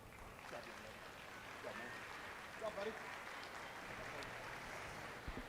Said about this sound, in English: give all these kids a big round of applause